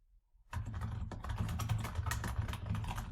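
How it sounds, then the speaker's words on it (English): Search terms are typed on a computer keyboard in a quick, continuous stream of close, dense keystrokes that starts abruptly after a brief quiet moment and carries on steadily to the end, with no talking. "when you're using OneSearch, you can certainly just go ahead and type"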